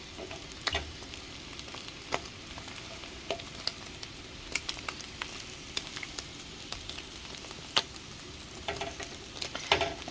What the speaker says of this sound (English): So when frying Spam, it is always better to err on the side of under than over.